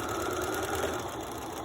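A sewing machine stitches a fabric face mask, running continuously as a steady, dense mechanical whir, close and loud, with no talking.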